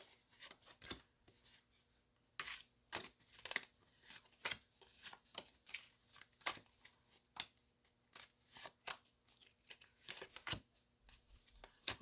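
Tarot cards are shuffled by hand in repeated quick riffles and slaps, crisp close bursts spaced irregularly over a quiet background with no voices.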